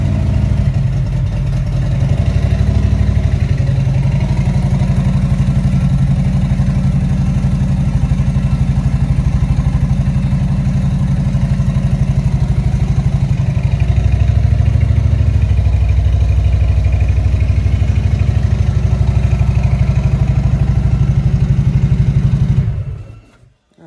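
A Harley-Davidson motorcycle engine fitted with a lithium battery starts and settles into a steady, loud, close-up idle with its low rumbling throb, running for about twenty seconds before cutting off at the end.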